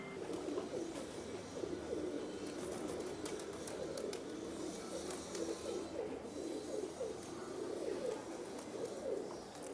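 Teddy pigeons from a breeder's loft coo in a low, rolling murmur, several birds overlapping at moderate distance in a steady stream of soft throaty calls.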